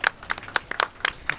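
A few people clap in short, sparse bursts, light and close, for a Dark Souls Any% speedrun at the ESA Winter 2019 charity marathon.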